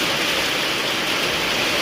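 Heavy rain pours down outdoors in a dense, even hiss of broadband noise at a loud, constant level, with no voices over it.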